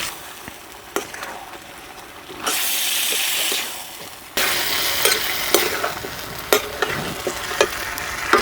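Green peas and pre-fried vegetable pieces hit a hot kadai with a sudden loud sizzle, followed by a steady frying hiss and repeated scraping clinks of a spatula stirring, close and prominent without speech.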